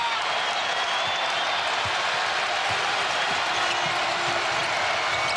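A packed indoor arena roars with sustained, loud crowd noise and cheering during a Providence at Xavier college basketball game, with faint thuds and squeaks underneath.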